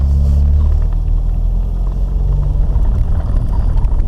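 A Citroën DS 23 rolls along a track at a rally in La Ferté Vidame, heard from inside as a loud, steady low rumble with some wind noise and no talking.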